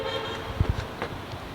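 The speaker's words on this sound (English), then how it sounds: "You can hear behind me, there's always lots of honking." Car horns honking near a docked Catalina 30 sailboat, a couple of short, muffled toots amid steady background noise, heard from some distance.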